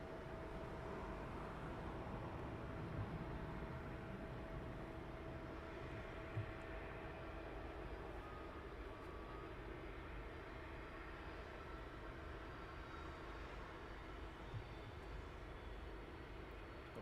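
A jet airliner lands at night at East Midlands Airport with spoilers up and no reverse thrust, heard as a faint, distant, steady rumble of engine noise across an open airfield.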